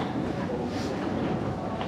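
A Buenos Aires metro train rumbles along with a steady, dense roar and faint rail clatter, heard continuously and close from inside the carriage.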